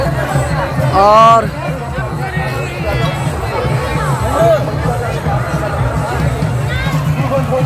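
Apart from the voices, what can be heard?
crowd of people queuing at the ghat for Chhath Puja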